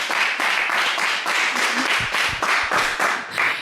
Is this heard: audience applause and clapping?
yes